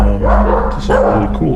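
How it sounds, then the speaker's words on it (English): A dog barks in the background while someone talks close by over a steady low hum. "So sorry for the barking noise."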